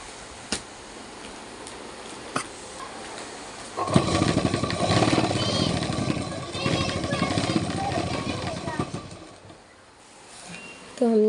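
Sewing machine stitching a double seam on trousers: a couple of faint clicks, then a loud, steady motor whir for about five seconds before it stops.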